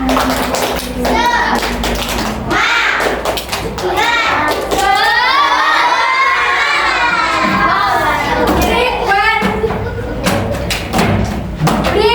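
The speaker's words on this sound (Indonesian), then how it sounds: "marilah kita tepuk semangat dulu" A group of children in a classroom perform a rhythmic spirit clap chant, sharp claps in patterned bursts mixed with loud chanting voices, a sustained sung call in the middle, and an adult voice leading between rounds.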